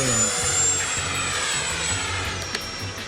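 An FMS Rafale 80mm electric ducted fan delta jet passes overhead, giving a steady whooshing whine that slowly shifts in pitch, heard from a distance outdoors with faint background noise.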